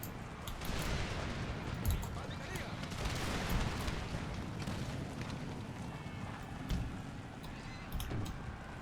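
Musket volleys from 18th-century infantry in Empire: Total War, a dense continuous crackle of massed gunfire with a few louder bursts standing out over a rumbling battlefield din, with faint voices mixed in.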